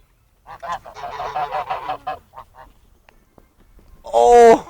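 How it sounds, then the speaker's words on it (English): Geese honk loudly close by at a pond, with a burst of harsh, strident calls at the end following a stretch where a person talks. "there was thousands of birds"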